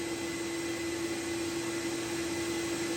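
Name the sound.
Namco Husky scooter carpet extractor vac motor running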